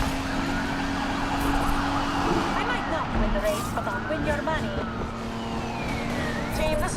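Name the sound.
police patrol car siren in the video game Need for Speed Unbound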